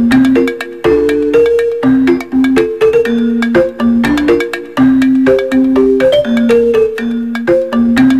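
A phone ringtone plays loud and close, a bright repeating electronic melody of quick plucked notes that runs on without a break while a call to Inday goes through.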